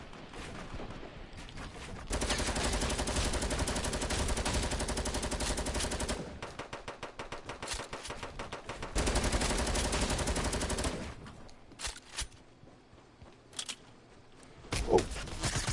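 Sustained bursts of automatic gunfire in the Fortnite video game, dense rapid fire for several seconds, a pause, another long burst, then scattered single shots and short bursts, loud and close.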